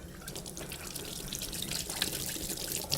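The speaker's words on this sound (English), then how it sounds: "give me just a quick second to wash my hands while I'm here" Water runs steadily from a kitchen tap while hands are washed, a continuous close splashing hiss with small drips and clatters, no voices.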